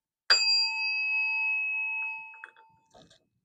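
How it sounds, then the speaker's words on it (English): A single bell strike used to clear the space in a spiritual session, a clear bright ring that sustains and slowly fades over about two seconds, followed by faint rustling. "I'm going to clear the space with a bell."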